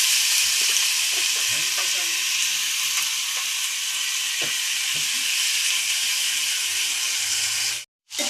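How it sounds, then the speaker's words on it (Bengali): Potatoes fry in hot oil with curry leaves and chopped chilies, a loud, steady hiss with scattered pops and crackles close up, cutting out briefly near the end before resuming. "আর এর মধ্যে এবার আলুগুলো ঢেলে দেবো।"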